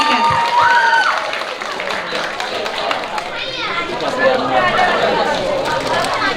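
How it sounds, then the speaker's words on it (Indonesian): An indoor audience applauds after a stage performance, a steady wash of clapping mixed with crowd chatter and a few raised voices that holds for several seconds. "Kita beri tepuk tangan sekali lagi buat Kak Andika."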